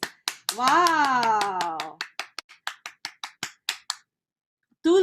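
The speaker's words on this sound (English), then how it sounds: "Can we give her another round of applause, please?" A few people clap for a team member, Miss Elenita Season of Team Elite Pavo, at a leaders' sharing session. A voice exclaims over the start, then a short run of separate claps follows before a pause and more talking.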